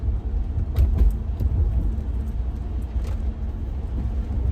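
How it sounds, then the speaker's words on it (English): Steady engine and road rumble from a 2004-2008 Acura TL on a slow test drive through neighborhood streets, heard from inside the car, with a few light knocks and rattles over the first seconds. "Just giving her a little test drive."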